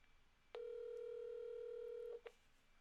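A phone on speaker gives a single steady dial or connection tone lasting about a second and a half, followed by a brief beep, close and clear over a quiet background.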